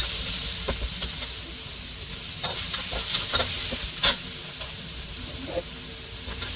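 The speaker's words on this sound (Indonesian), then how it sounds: "masukkan bawang bombaynya dan dioseng-oseng lagi" Onions sizzle in a hot wok, a steady hiss broken by scraping stirs and clinks of a utensil against the pan.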